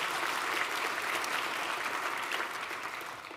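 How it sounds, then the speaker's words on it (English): Sustained applause from a large crowd at a college convocation, steady clapping that tapers off slightly toward the end. "let's give a round of applause for every single person who has helped support"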